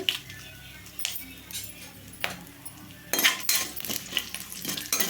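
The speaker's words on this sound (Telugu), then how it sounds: "తాలింపు బాగా వేగాలి" Spices including cumin and dried red chillies crackle and sizzle in hot oil, with a few metallic clinks of a utensil against the pan, close and fairly quiet.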